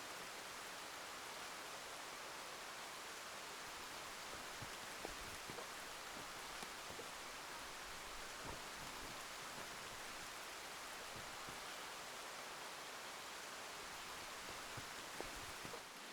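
Steady rain falls in the video game Escape from Tarkov on the Shoreline map, a faint, even hiss of drops with scattered small ticks running unbroken and with no voices.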